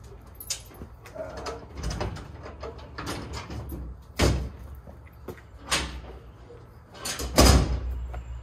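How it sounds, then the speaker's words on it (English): Doors are pushed closed at an outdoor show, giving several separate thuds and slams spread over a few seconds, one after another, while faint background sounds and bird coos carry on between them. "go ahead and I'll close these doors"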